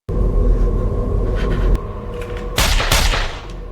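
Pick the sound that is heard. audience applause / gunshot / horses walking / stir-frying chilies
gunshot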